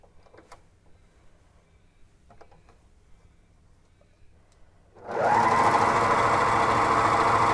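An overlocker sewing machine starts up and runs steadily, stitching a seam on an open seam stitch sampler; near and loud after a quiet stretch of faint handling clicks, continuing to the end without talk.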